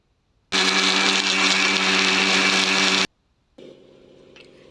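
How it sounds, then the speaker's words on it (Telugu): An electric mixer grinder whirs loudly for a few seconds while grinding chutney, stops abruptly, then a quieter motor hum starts up after a short pause. "దీంట్లో వాటర్ అనేది యాడ్ చేసే అవసరం లేదు ఎందుకంటే మనం మళ్ళీ మిక్సీ పట్టుకుందాం"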